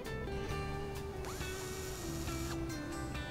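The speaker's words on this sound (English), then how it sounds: "pre-drill each hole before you attach the brackets" A power drill bores pilot holes for metal brackets on a window pane garden trellis, whirring steadily with ratcheting mechanical clicks and brief pitch drops as it bites.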